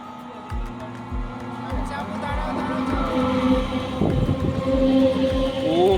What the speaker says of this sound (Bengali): আজিমগঞ্জ প্যাসেঞ্জার ট্রেন ছিল এটা